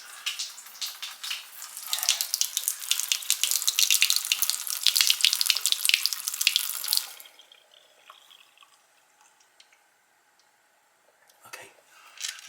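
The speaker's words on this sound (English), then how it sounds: "I want it to go off so I can hear it draining" Water from a faucet pours and splashes into a newly installed kitchen sink drain for about seven seconds, then stops, leaving quiet drips and faint trickling with a few small clicks near the end.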